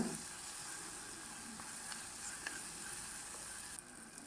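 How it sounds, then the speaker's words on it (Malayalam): Tomato pieces sauté in a pan for a fried potato curry, giving a steady close sizzle and hiss with a few faint stirring scrapes throughout. "ഇനി ചെറുതായി എരിഞ്ഞ തക്കാളി കഷ്ണങ്ങൾ കൂടി ഇതിലേക്കിട്ട് വഴറ്റിയെടുക്കാം"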